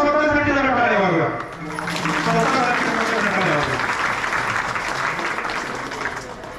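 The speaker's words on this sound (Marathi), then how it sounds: "आपल्या स्वतःसाठी जरा टाळ्या वाजवा." An audience at a temple anniversary celebration bursts into sustained applause after a bhajan, following someone speaking, the clapping steady and fairly loud.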